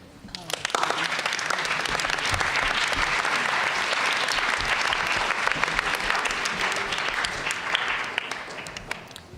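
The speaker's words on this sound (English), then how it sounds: "I'm going to request a round of applause for all the awards." A general assembly audience gives sustained applause for student council awards, many hands clapping in a dense, steady roar that swells and then tapers near the end.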